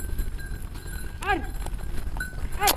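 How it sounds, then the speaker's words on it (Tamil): Goats bleat twice, short wavering calls about a second apart, heard fairly close above a noisy, rumbling outdoor background. "இந்த வெள்ளாடு தான் அட்டகாசம் பண்ணுறது இருக்கிறதுல."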